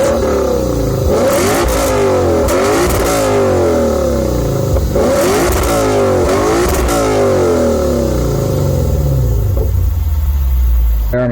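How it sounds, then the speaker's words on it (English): A Lexus RC F is driven hard with its exhaust roaring loud and close, rising through several revving pulls and dropping between gear changes in repeated waves. "Let's hear that exhaust."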